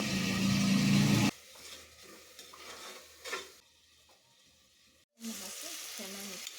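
Rice going into a hot frying pan for village-style methi pulao gives a loud sizzle that suddenly drops, then soft stirring and scraping, before the sizzle returns at full strength near the end.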